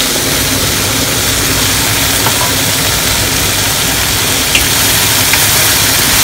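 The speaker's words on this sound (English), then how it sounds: "I'm adding some Mangetout and some peppers" Mangetout and peppers sizzle in a beef stir fry, a steady broadband hiss of frying running unbroken and fairly loud throughout, with a faint low hum underneath and no talking.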